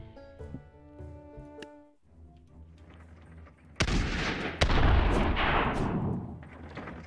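Cannons fire in the battle game Totally Accurate Battle Simulator, two heavy booming shots in quick succession followed by a rumbling, crackling aftermath, after quieter game sounds.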